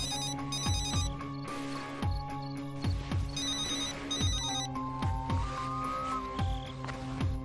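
A telephone in a police office rings with a repeating melodic ringtone, steady and loud, cycling over and over without being answered and with no talk.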